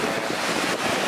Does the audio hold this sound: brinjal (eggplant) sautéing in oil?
no